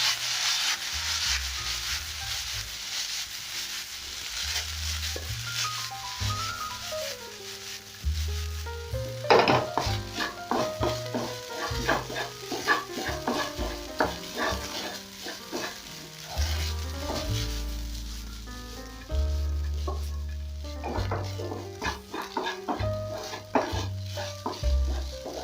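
Leftover rice being stir-fried with soy sauce, a spatula rhythmically scraping and tossing against the pan over a steady sizzle, with clanks and louder bursts throughout.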